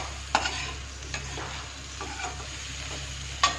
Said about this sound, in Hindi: मसालों के साथ गोभी को अच्छे से मिक्स कर देते हैं।